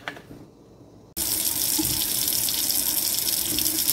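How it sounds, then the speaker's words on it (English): Warm tap water gushes suddenly into a stainless steel sink after a quiet moment, then pours steadily and loudly, a close continuous splashing rush. "now I'm going to take it to my sink and rinse it really good"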